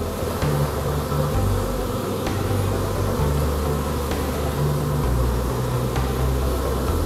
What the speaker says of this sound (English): There's some bees with pollen looking for a place to put it.